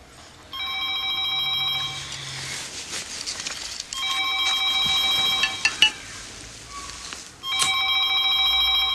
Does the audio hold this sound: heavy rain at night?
no